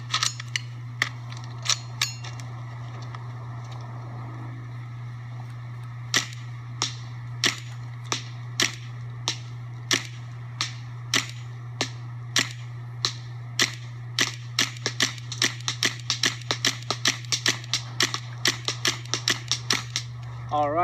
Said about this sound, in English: So let's shoot some round balls and then shoot some shape rounds.